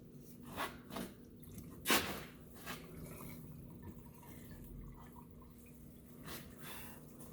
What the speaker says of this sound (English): Once it slows to basically a drip like this, you can go ahead and put your drain plug back inside